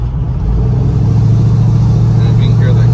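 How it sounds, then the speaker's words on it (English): Steady low engine rumble from a 1987 Chevrolet R10 short-bed pickup truck's exhaust, loud and continuous, idling with a slight rise in revs near the end. "And you can hear the exhaust."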